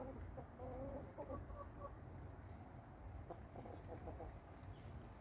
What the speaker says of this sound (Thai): เฮ็ดอีหยังเกิดขึ้นอยู่เหล่าไก่